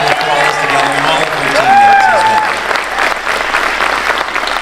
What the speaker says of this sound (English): Could you give Dr. Stacy and Brent a nice round of applause for that?